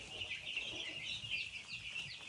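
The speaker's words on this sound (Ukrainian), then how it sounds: "Значить, нашим курям п'ятий день." Five-day-old broiler chicks in a flock of about a thousand, fed on a standard starter feed, give a steady high chorus of cheeping, moderately quiet and continuous, with no talk over it.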